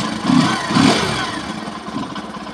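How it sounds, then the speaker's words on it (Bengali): A motorcycle engine starts with two quick surges, then settles into a steady, fairly close running note. "চলো বাইক স্টার্ট দেওয়া যাক।"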